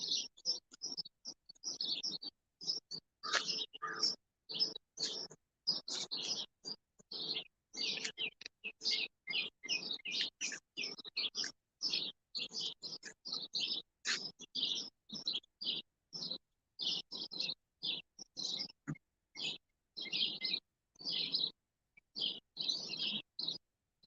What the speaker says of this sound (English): Crow, call.